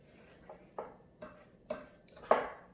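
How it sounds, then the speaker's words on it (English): Spoon clinking against a bowl while stirring chocolate chips into a sugar-free, gluten-free oatmeal mixture, a series of faint, irregular taps and scrapes. "we're going to stir up the chocolate chips here"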